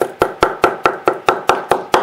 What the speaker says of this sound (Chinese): 将虾仁剁碎